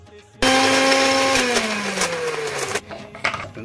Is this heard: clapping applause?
no